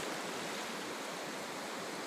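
Water rushes and washes in with a steady broadband hiss like surf or a flowing stream, constant and fairly close throughout, with no talking.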